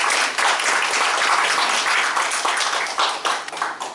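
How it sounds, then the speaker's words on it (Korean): Loud, dense applause from a seminar audience welcoming a speaker, close and continuous, easing slightly toward the end. "큰 박수 보내주시면 감사하겠습니다."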